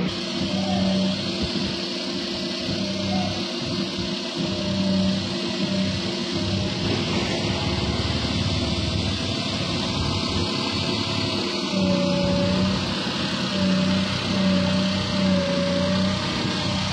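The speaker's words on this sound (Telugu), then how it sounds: "రండి ఇంజన్ చూద్దాం." A 2011 Maruti Suzuki Alto LXI engine runs at a steady idle, a continuous close-up hum with a low throb and a rattle that holds evenly throughout, with no talk.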